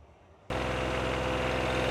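After a brief quiet moment, the engine of a John Deere 1025R compact tractor with backhoe starts up abruptly and runs at a steady, loud, throbbing 2,500 RPM close by.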